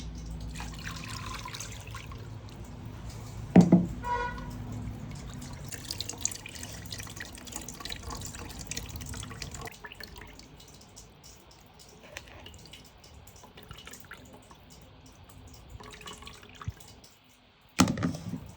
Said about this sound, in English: Now I am going to sieve it. I'm going to strain it.